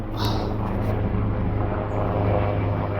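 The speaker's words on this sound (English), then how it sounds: "There's another helicopter." A low, steady engine drone with a deep rhythmic thrum overhead, loud and continuous throughout, from an army helicopter passing close and low.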